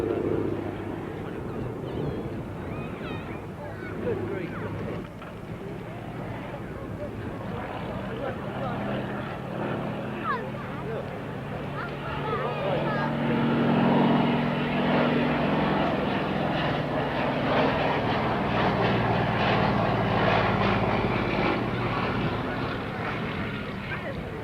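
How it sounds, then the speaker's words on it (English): A Fairey Swordfish biplane takes off at a 1986 RAF Halton airshow, its piston engine droning steadily and building in loudness as it passes, with crowd chatter and voices mixed underneath. "The Swordfish is now taking off"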